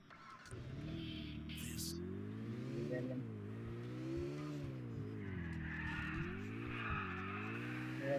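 A car engine in the video game GTA IV revs up and down in rising and falling sweeps, with brief tire skids, loud and continuous without speech.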